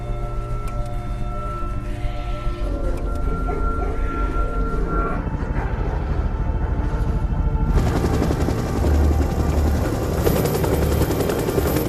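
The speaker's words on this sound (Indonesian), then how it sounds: "tak lama kemudian suara helikopter terdengar mendekat" A helicopter approaches over a Brazilian forest, its rotor chop growing into a loud, dense rumble that swells and thickens toward the end.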